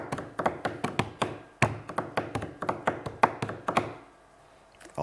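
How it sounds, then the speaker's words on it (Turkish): Hands strike a tabletop on a TV word game show, tapping out a brisk rhythmic pattern of sharp close knocks and thumps in repeated groups for about four seconds before stopping. "Masaya vurarak çalabiliyor musunuz?"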